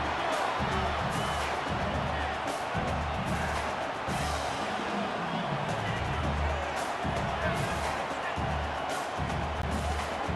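A stadium crowd roars steadily in the College Football 25 video game during a Utah State versus Iowa matchup, a dense, constant wash of crowd noise with rhythmic thumping beneath it, alongside a commentator's talk.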